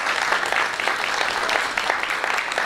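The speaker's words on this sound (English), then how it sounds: "Please clap loudly, little bit loud." An audience at a university graduation ceremony in Manchester claps steadily and fairly loudly. The overlapping hand claps form a brief, dense burst.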